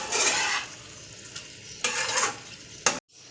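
A spoon stirs mushroom chilli with a little sugar in a hot pan, giving a steady sizzle and scraping with a few sharp clinks against the pan before a brief drop to quiet.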